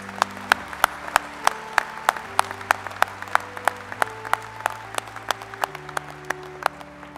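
Audience applause at a commencement ceremony for a college of agriculture, natural resources and design: sustained dense clapping from a large crowd with sharp individual claps standing out, steady throughout with no talk.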